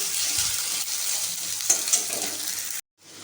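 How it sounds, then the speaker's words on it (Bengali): Shrimp frying in a pan gives off a loud, close, continuous sizzle with a few stirring scrapes, then cuts off abruptly near the end. "তো এখানে আমি চিংড়ি মাছটা দিয়ে দিলাম।"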